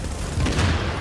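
A grenade explodes in Tom Clancy's The Division: one short, muffled low boom that swells and fades within about a second.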